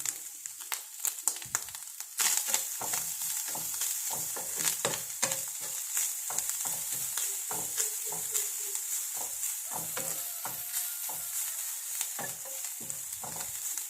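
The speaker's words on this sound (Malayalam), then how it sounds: "നല്ലപോലെ തേങ്ങയും ഫ്രൈ ആവണം" Grated coconut frying in ghee in a pan, with a constant sizzle under frequent rhythmic scraping and stirring strokes of a spoon, close and fairly loud.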